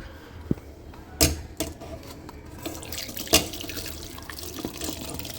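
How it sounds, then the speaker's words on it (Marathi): Cooking water from pressure-cooked vegetables is strained off for stock, a soft, steady pour with splashes and a few sharp clinks of a vessel. "आता हे पाणी मी गाळून घेणार आहे, म्हणजे स्टॉक"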